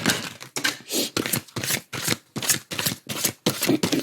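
Two mixed oracle card decks, Sacred Geometry of Relationships and Sacred Geometry Activations, being shuffled by hand: a close, steady run of crisp riffling bursts, about ten in four seconds, with brief pauses between, no voices.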